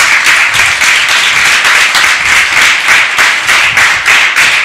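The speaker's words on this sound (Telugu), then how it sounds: "చప్పట్లో కూడా దేవునికి మహిమ లేదు." A church congregation claps loudly and continuously during a sermon, many hands beating in a loosely rhythmic, steady pulse close by.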